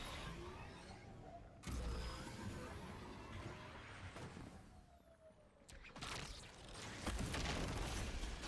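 Units blow up in a video game with a few deep booming blasts and bursts spread across the stretch, set over a constant mechanical rumble at moderate volume.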